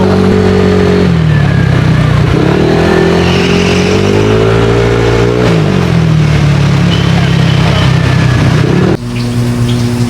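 A motorcycle rides through heavy traffic, its engine rising and falling in loud, sustained revving close to the listener, with nearby car noise mixed in.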